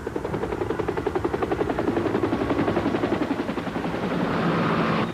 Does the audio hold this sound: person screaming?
no